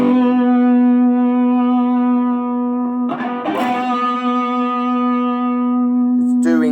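On a Harley Benton DC-60 electric guitar, a single sustained note rings with rich overtones while the tone knob is swept, the timbre shifting noticeably partway through before a fresh pick attack near the end.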